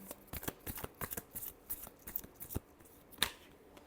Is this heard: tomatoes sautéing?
no